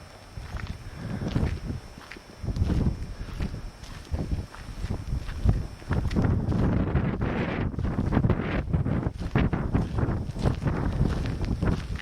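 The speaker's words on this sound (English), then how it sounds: "on a very windy, cold day of May." Strong wind on a cold May day buffets the microphone in loud, rumbling gusts that continue throughout, with footsteps on a trail faintly audible beneath.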